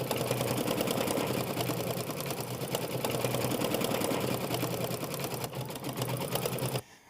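An embroidery-style sewing machine runs a steady decorative stitch with white thread around a snowman appliqué on a mini quilt, a loud continuous whirring buzz that stops abruptly just before the end.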